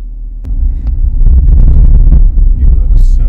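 Low, steady rumble and hum inside a moving car, loud and close, with a door-like thump near the start and a faint voice under the engine drone.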